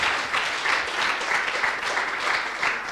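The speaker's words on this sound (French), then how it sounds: "Je pense qu'on peut applaudir Armelle." Steady, moderately loud audience applause at a conference on performance with a sailing skipper, an even crowd of many hands clapping throughout with no voices on top.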